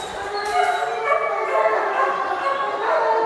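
A female police dog in a training exercise, running through smoke to leap on a person, giving high yelping and whining cries in quick bursts, close and fairly loud with voices mixed in.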